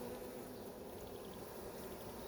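Honeybees crowd a hive frame during a transfer from nucleus boxes into long hives, making a faint, steady, soft buzzing hum with no other sounds standing out.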